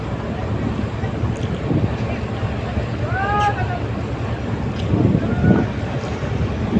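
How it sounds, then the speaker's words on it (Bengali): Strong wind blowing over a river with choppy waves, heard near a boat: a constant rushing wind roar buffets the microphone throughout, with brief whistling tones in the middle. "আসলে এখন নদীতে অনেক বাতাস অনেক ঢেউ"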